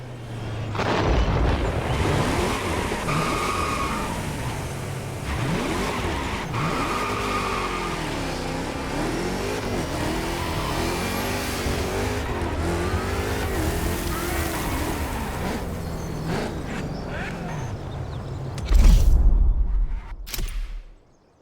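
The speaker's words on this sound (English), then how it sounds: "The car you're about to drive in this opening event is none other than the first Ferrari in the supercar bloodline, the Ferrari GTO." A Ferrari GTO engine roars and revs continuously in The Crew Motorfest racing game, with pitch rising and falling through gear changes, loud and close, ending in a sharp burst and abrupt cutoff.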